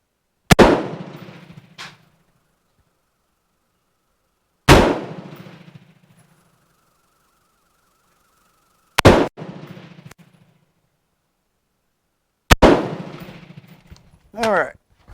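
A police trade-in Colt M4 rifle fires four loud, sharp single shots spaced a few seconds apart on an outdoor range, each followed by a short echoing tail, with brief mechanical clanks between shots.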